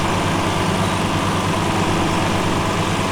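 A tractor engine runs steadily at harvest time, a loud, close, continuous low rumble with an even droning hum and no break.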